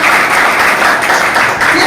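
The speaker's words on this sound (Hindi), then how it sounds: "एक बार जोरदार ताली होनी चाहिए इनके लिए।" Loud, steady applause from an audience at a product training session fills the whole stretch, dense and continuous with no pauses.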